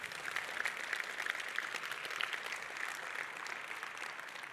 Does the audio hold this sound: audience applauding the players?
yes